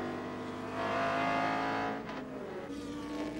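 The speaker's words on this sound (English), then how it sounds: "a view from the outside from the roof as one of the prototypes just flies past" A Nissan-powered Le Mans prototype race car flies past at Road Atlanta, its engine note swelling to a loud, high whine as it nears, then dropping away as it pulls into the distance.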